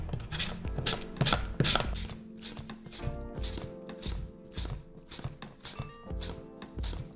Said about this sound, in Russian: Картошку я буду натирать на терке для корейской моркови.